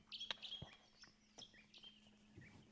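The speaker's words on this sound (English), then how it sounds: "Birds are singing." Birds chirp and tweet in short, bright calls scattered across a quiet morning at a bush campsite, fairly faint with a low steady hum underneath.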